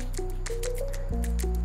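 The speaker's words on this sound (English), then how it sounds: "Pouring 40 ml of water by evenly saturating the coffee grounds." Hot water from a kettle is poured over 15 grams of ground Panama Abu Gesha natural coffee for a pour-over brew, giving a close, wet trickle with dripping and squishy splashes over a steady low hum.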